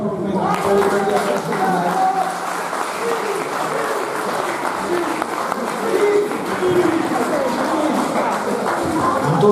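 Audience applause at a Sardinian village event in Orune, a dense, steady patter of many hands clapping that fills the whole stretch at a fairly loud level.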